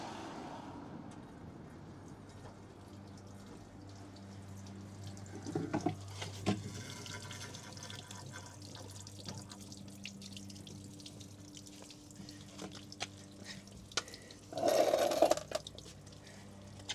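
Water runs steadily into a 100-litre tank, a continuous filling rush heard close by with a few louder clunks and splashes partway through and near the end.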